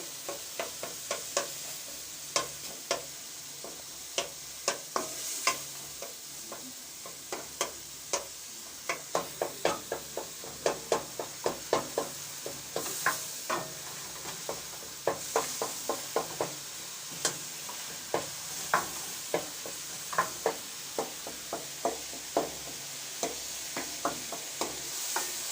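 Chicken pieces fry and sizzle in a pan for a white chicken karahi, a constant hiss broken by regular clinks and scrapes of a spoon stirring, close and alone.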